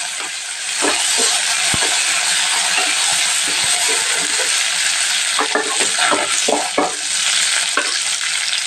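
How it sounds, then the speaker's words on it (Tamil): Curry leaves hit hot oil already holding sesame and cumin for a Tamil curd mustard gravy, giving a loud, continuous sizzle with scattered crackles and pops close by. "இப்போ வந்து கருவேப்பிலை சேர்த்திடலாம்"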